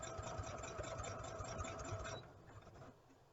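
A sewing machine stitches stretchy fabric for a raglan tee, a fast steady mechanical whirr that runs for about two seconds, then stops, leaving a faint hum.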